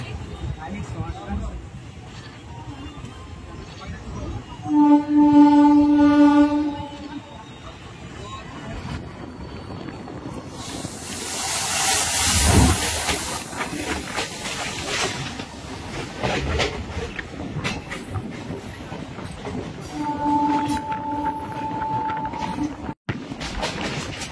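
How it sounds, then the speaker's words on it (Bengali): A train rolls along steadily after pulling out of Santragachi station, its continuous rumble broken by a couple of brief tonal hoots, with a faint murmur of voices in the carriage. "ট্রেন কিন্তু আমাদের একদমই সঠিক টাইমে ছেড়ে দিল সাঁতরাগাছি থেকে।"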